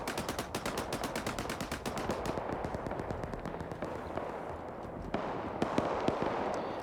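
A .50 machine gun firing in an RTS Zeus-run military video game: a rapid sustained burst opening loud, then thinning into scattered, more distant shots and impacts over a noisy battlefield backdrop.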